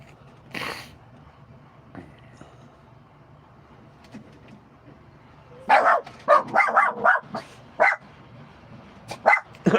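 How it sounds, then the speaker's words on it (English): Dogs bark in a burst of repeated sharp, loud woofs after a screen door is blown open by wind, following a quieter stretch with a faint rattle. "the wind opened the screen door, it freaked the dogs out"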